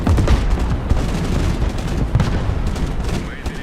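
An anti-tank unit opens fire in the strategy game Broken Arrow during a zombie defense battle, producing dense, overlapping booms and gunfire crackle. The loud barrage is continuous and heavy in low rumble throughout.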